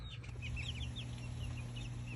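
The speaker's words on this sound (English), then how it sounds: "Punk rock chickens lounging in the sun." Polish chickens cluck softly in short, scattered calls over a steady low hum, the birds close by and relaxed while lounging outdoors in the sun.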